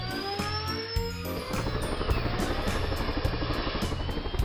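Cartoon helicopter starting up, its rotor whine rising steadily in pitch over a low chopping thud that settles into a continuous loud drone, heard alone without voices.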